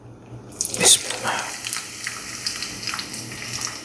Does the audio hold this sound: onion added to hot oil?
yes